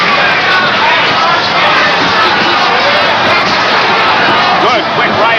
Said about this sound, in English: Crowd roaring at that right hand